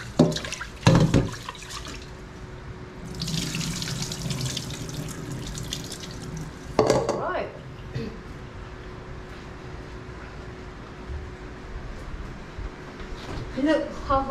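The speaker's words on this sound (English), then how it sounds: "This is how I wash my rice. We are using basmati rice." Basmati rice is rinsed in a bowl under a running kitchen tap. Water streams and splashes with a few sharper bursts of pouring and sloshing, and a voice is audible at times.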